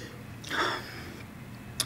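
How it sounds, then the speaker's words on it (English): A close sniff over a glass of Texas Mourvedre red wine, one soft breathy inhale in a quiet room, followed later by a faint tap. "So let's dive in for a sniff."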